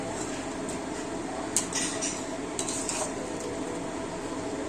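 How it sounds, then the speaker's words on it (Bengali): Masala being stirred in a pan over medium heat for a restaurant-style chicken gravy: broad, continuous frying hiss with scraping and a few metallic spoon clinks against the pan, fairly close. "মশলাটা দিয়েছি মিডিয়াম হিটে, মশলাটা মিশিয়ে নেবো।"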